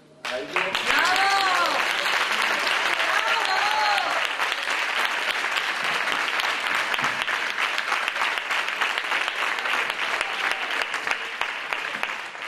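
Crowd at an arts fair applauds children who performed flamenco, with sustained, dense clapping and some cheering voices rising over it near the start, continuing evenly throughout.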